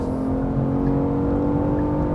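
2022 Genesis G80 car accelerating, a steady, smooth engine whir heard from inside the cabin that climbs gently in pitch through the short stretch, with no talk.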